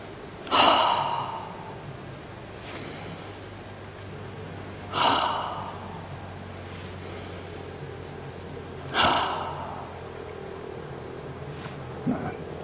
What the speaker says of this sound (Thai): หายใจขั้น3ครั้ง